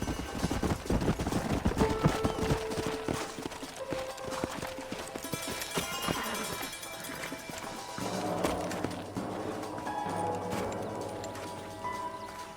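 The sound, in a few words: horse hooves clip-clopping, from video game Red Dead Redemption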